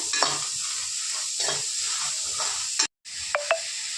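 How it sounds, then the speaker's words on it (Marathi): Green chillies are dry-roasted in a pan without oil, a steady soft sizzle broken by periodic scraping stirs of a spatula, with a brief dropout and two quick sharp clinks near the end. "मिरची एकत्र टाकून आधी बिना तेलाचंच थोडं परतून घ्यायचं आहे."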